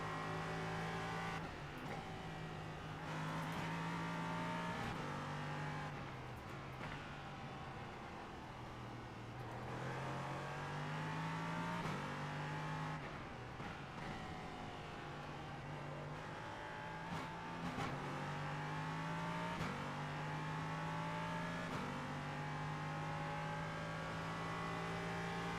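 LMP3 prototype race car in a racing video game at Zandvoort: a constant engine whine that rises and drops with shifts and corners, with short lifts, heard alone at moderate level.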